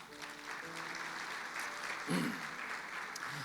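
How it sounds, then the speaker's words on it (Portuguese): Church audience gives dense, continuous applause at moderate loudness, with a brief voice rising partway through. "Então dê um aplauso a ele."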